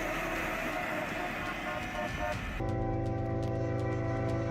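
A heavy rail maintenance machine weighing over 60,000 pounds rolls along railway tracks, a loud steady mechanical rumble with droning engine tones that deepen and grow more tonal partway through, alongside rhythmic clanking.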